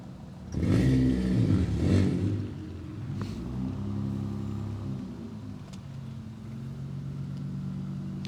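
Rally cars at a Lake Superior Performance Rally service area idle and rumble as they creep forward in a queue, a loud low engine burst near the start settling into a steady close drone.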